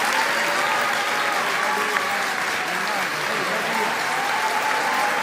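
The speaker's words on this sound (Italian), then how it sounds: "E l'elezione della professoressa Spatari è stata salutata da un fragoroso applauso dell'aula magna del rettorato, gremita per lo spoglio dell'ultimo seggio." Thunderous applause fills a packed university great hall as a new rector is elected during the final ballot count, a dense continuous clapping from a large crowd that never lets up.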